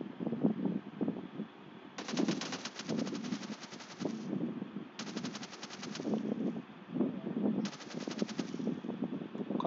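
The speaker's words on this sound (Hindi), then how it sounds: "कोई शॉटगन चलाता है" Bursts of rapid gunfire in the mobile battle royale game PUBG Mobile come in three distinct volleys over steady in-game background noise.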